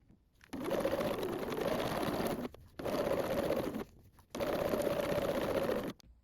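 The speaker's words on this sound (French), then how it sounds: "Vous allez piquer à 2 mm du bord sur tout le tour en allongeant votre poids sur 4." A sewing machine stitches 2 mm from the fabric edge with a lengthened stitch, running in three steady bursts separated by short pauses, close and clear with no talking.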